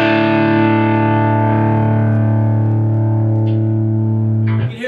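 Heavily distorted electric guitar through a Megatone Vostok amp on the rhythm channel with gain at 10: a single sustained chord rings loud and thick, slowly decaying for several seconds before being choked off, no talk.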